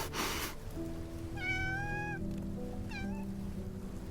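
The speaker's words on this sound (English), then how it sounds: "A cat isn't a log. Come on, pet it." Cat meowing in the video game Love and Deepspace, two clear rising-and-falling meows in quick succession over a steady background music bed, with a brief burst of noise at the very start.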